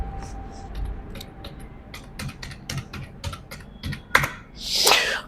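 An Aadhaar number is typed on a computer keyboard as a string of close, crisp key clicks in an irregular rhythm, ending with a short soft rush of noise.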